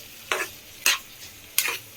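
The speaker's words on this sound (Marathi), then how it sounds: "चांगलं परतून घेऊया." Three quick scraping stirs of a spoon through Maharashtrian Bhogi vegetables sautéing with salt in a pan, each a short bright swish over a quiet background, with no voices.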